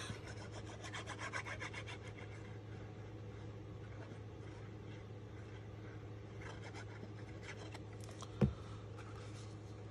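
Bone folder rubbing firmly along the seam of a paper Halloween black cat treat box, a soft steady scraping close by, with a single sharp tap near the end.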